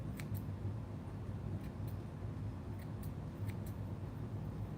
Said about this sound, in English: Take your scissors, take your cutters, and get the flyaways out